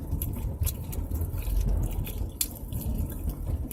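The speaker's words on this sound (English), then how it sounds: "It's like I'm chewing on rubbery styrofoam or something." Crunchy chili hot dog from Pink's in Hollywood being chewed inside a car, steady close mouth crunching with soft wet bites over low road rumble.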